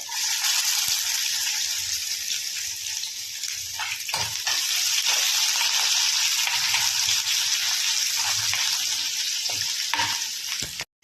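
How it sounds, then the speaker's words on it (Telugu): Onion frying in hot oil with mustard seeds and cumin, a loud, steady close-up sizzle with occasional pops and clinks of a stirring spoon throughout. "కొద్ది కలర్ చేంజ్ అయినాక ఆనియన్ వేద్దాం."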